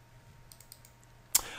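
Single sharp computer mouse click near the end of a quiet stretch, preceded by a few faint soft ticks over low background hum during a software tutorial.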